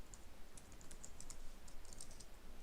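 Soft, rapid keystrokes on a computer keyboard patter in irregular bursts of light clicks, quiet and close, over a low steady background hiss with no talking.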